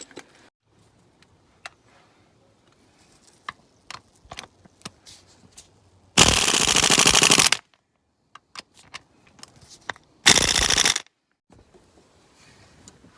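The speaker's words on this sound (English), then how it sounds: "Or actually, I'm going to use my impact gun." A pneumatic impact gun drives the crank pulley bolt on an R53 Mini Cooper S, firing in two loud, close rattling bursts: a longer one and then a shorter one, with faint clinks of tools between them.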